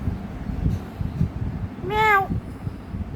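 A cat gives one clear, close meow of rising and falling pitch, lasting about half a second, over faint background noise in a quiet room.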